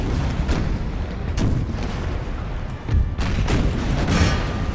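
Musket volleys from troops in a Napoleonic-era strategy game fighting dragoons crack out in repeated booming bursts, overlapping loud and near into a rolling fusillade.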